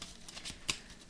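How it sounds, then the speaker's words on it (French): Rune cards are shuffled in quick, soft riffling bursts, with a sharper flick partway through and no talk over them. "Et on va prendre une petite carte des runes."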